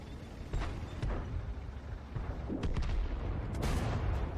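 Tank cannon shots in World of Tanks, several booming blasts at an irregular pace over a dense rumbling battle din, with no talking.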